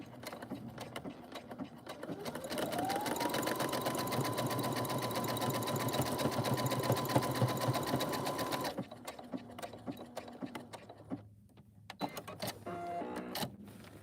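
A sewing machine stitches fabric, running in a fast, steady whirring hum for several seconds with a rising pitch at the start, then stopping, followed by a few softer mechanical clicks and handling noises.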